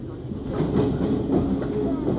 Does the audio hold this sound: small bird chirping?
no